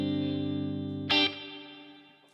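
Electric guitar played through a Line 6 Helix on a fairly straight clean tone with light reverb: a sustained chord rings, then a bright strum lands and decays with a reverb tail, close and alone.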